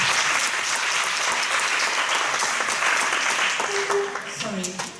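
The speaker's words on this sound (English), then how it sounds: "please give a big applause to our presentators" A seminar audience applauds its presenters with loud, full clapping that holds steady, then thins out as a voice begins speaking over the fading claps.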